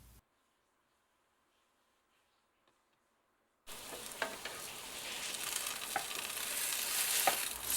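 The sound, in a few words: brioche French toast frying in a pan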